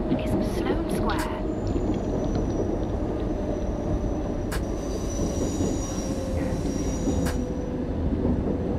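London Underground train in a simulator game running along the line, a loud steady rumble of wheels and motors with high squealing tones and occasional clicks, continuous and close.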